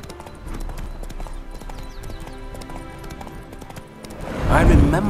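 In Witcher 3: Hearts of Stone, Roach the horse gallops with rapid, rhythmic hoofbeats under spoken dialogue, and a louder burst of sound swells near the end.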